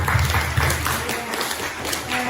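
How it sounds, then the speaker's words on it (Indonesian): Classroom applause for a student, a short burst of clapping from pupils in a school lesson, fairly close and steady over about two seconds with no talking over it. "Tepuk tangan dulu untuk Ilham."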